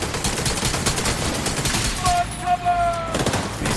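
Automated turret in The Division 2 firing rapid bursts of gunfire, a close, fast rattling fusillade with a brief electronic whine partway through and a voice heard over it.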